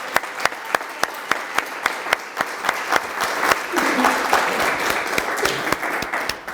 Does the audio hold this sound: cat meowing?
no